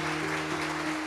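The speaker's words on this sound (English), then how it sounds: "So introducing my team members today, Amaya Nayak on the keys, a round of applause." Audience applause for a keyboard player at a music performance-lecture, a steady dense wash of clapping that fills the whole short stretch at moderate level.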